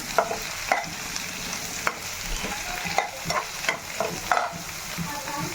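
Fenugreek leaves frying and being stirred in a pan while a chutney for sponge dosa is made, a steady close sizzle broken by repeated spatula scrapes and clinks.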